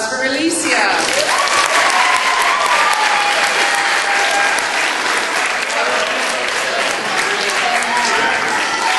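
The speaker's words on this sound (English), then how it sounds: "give a big round of applause for Alicia" Loud, sustained applause from an audience at a middle school poetry slam in Wallingford, CT, welcoming a poet to the stage; dense clapping fills the whole stretch without a break.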